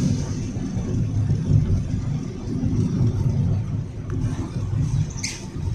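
A car's engine labours as it climbs a steep mountain road, a steady mid-pitched drone holding close and fairly loud throughout with no clear revving peaks.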